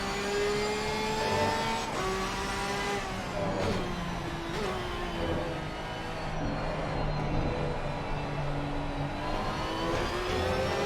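Porsche 992 engine in a racing video game on track, revving up and easing off through repeated gear changes, a loud steady mid-pitched drone with no talk.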